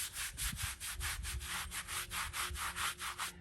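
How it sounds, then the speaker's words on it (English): A soft natural-fiber Tampico brush scrubs a headstone with rhythmic back-and-forth strokes, a steady run of about a dozen close, gentle swishing rubs. "this is natural fiber Tampica. It's a very soft brush."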